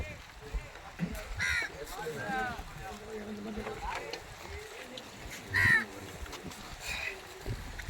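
Crows caw a few times at a distance, circling where food has been set out for them, while people talk over outdoor background noise.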